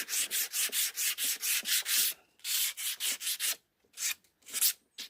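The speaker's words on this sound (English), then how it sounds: "Bit of hand sanding as well." Someone hand sands the crisp edge of a beech wood side-table piece meant for resin. Quick, even rasping strokes run in a steady rhythm, then pause before a few slower, uneven strokes, all close and with no talking.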